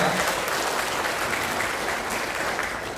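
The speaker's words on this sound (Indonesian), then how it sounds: "aplaus dulu untuk kita semuanya yang luar biasa" Audience applause at a motivational talk about multi-level marketing: dense, steady clapping from a crowd, loud and continuous throughout, tapering slightly at the end, with no talk over it.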